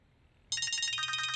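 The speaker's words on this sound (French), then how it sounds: "Votre téléphone sonne." A telephone starts ringing abruptly, a bright trilling electronic ring that repeats in quick pulses, clear and alone after a quiet start.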